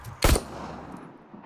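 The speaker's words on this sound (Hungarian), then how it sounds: "Ez egy lövés volt" A single sharp, loud gunshot burst in the video game RoboCop: Rogue City stands out, then a faint electronic hum and quiet background noise.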